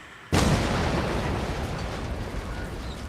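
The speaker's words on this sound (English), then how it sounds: "That explosion got the attention of all the German patrols in the area." A single big explosion goes off in a wartime video game, a sudden loud blast after a brief quiet moment, followed by a long rumbling roar of debris and echo that slowly fades.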